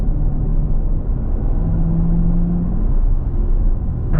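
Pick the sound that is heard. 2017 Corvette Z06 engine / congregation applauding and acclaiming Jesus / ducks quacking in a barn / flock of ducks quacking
2017 Corvette Z06 engine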